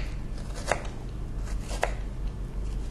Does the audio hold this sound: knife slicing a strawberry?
yes